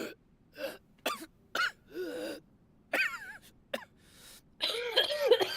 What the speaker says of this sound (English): she's actually coughing